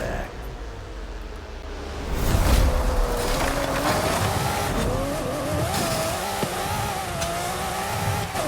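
A Lamborghini Murcielago races in a video game, its engine droning loudly and steadily with the pitch rising and falling through gear changes after a louder surge near the start, and faint tire noise under the drone.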